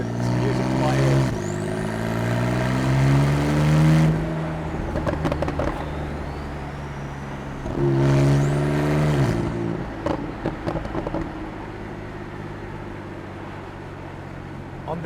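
A Porsche 911 Targa 4S with a 3.0-litre twin-turbo engine in sports mode revs up twice, each rise ending in a throaty crackling burble of pops on the downshift, loud and close with no voice over it.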